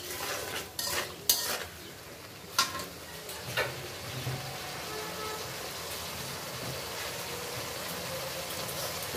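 Spice masala is stirred and sautéed with a little water and chili powder in a pan for a hilsa fish curry with potato and pointed gourd, giving a few sharp utensil scrapes early on and then a steady low sizzle.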